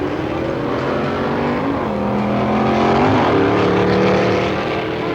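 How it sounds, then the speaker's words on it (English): Drag racing cars accelerating down a quarter-mile asphalt strip, a loud sustained engine roar whose pitch rises and swells as the cars pull away. "automobiles designed to do only one thing: accelerate for that 1/4 of a mile"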